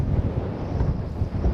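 Strong wind buffets the microphone in a continuous low rumbling roar, with no voices.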